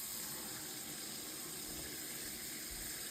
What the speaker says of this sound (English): You're wasting water. Turn off the faucet first.